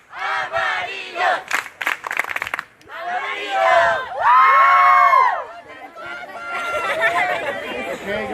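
Campers at a 2018 church campfire shout a team cheer chant together in loud, rhythmic bursts of many young voices, rising and falling like a rowdy crowd.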